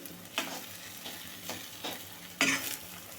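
An egg omelette frying on its second side in a pan, with a soft continuous sizzle broken by several sharp bursts of spatter, the loudest near the end.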